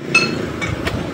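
Three sharp sledgehammer blows ring out on metal while work is done on an engine misloaded with diesel. The hits are spaced unevenly over a low background hum.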